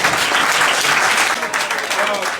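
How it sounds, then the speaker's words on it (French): Audience applause at the final round of a presidential dictation contest in Cotonou, steady dense clapping filling the whole stretch at close range, with some voices mixed in. "On peut déjà applaudir."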